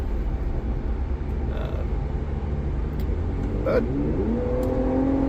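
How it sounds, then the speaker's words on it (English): A 2025 RAM 1500 Rebel 3.0 Hurricane with an AWE 0FG exhaust runs with a steady low rumble, then rises in a short rev near the end, loud and close, with a brief spoken word. "a good sounding exhaust when you want it to, you know, make itself known."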